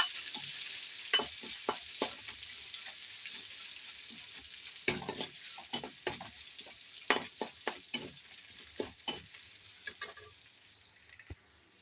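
Crushed ginger and garlic fry in a pan with a soft continuous sizzle, broken by many quick crackles and scraping stirs in an uneven rhythm, close and fairly quiet.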